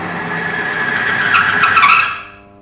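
An engine oil friction test rig grinds under about 20 pounds of pressure with brand A oil, a loud, steady, rising metallic whine that swells toward the end and then cuts off abruptly.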